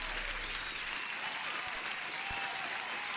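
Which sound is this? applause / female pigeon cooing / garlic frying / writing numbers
applause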